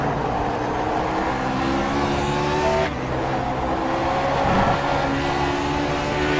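The engine of a Lotus 49 race car at Donington Park in the iRacing simulator gives a continuous loud, high-revving roar with shifting pitch and no pauses.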